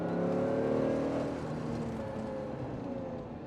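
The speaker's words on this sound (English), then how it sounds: "How beautiful does that V12 sound?" A Lamborghini Diablo VT 6.0 SE with a V12 engine, its harmonic drone loud at first and then easing into a steadier, slightly quieter hum.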